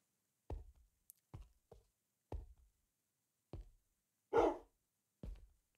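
A dog barking in Minecraft, six or seven short, separate woofs spaced irregularly over a few seconds, clear against silence, with one brighter, harsher yelp among them.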